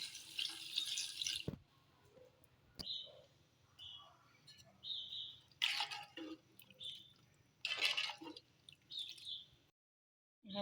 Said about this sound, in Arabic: هسه نحط المي تدريجيا.